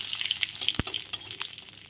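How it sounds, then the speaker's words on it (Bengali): Three whole dried red chillies, cumin seeds and two bay leaves fry in hot oil, a soft crackling sizzle with light pops and one sharp clatter. "ফোড়নটা ভাজা হয়ে গেলে দুটো তেজপাতা দিয়ে দেব"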